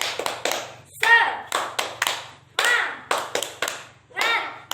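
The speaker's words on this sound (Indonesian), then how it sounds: "Tepuk tangan buat kita semua." A class of children performing a rhythmic spirit clap, bursts of group hand claps in a patterned beat separated by brief gaps, close and lively, with children's voices chanting along between claps.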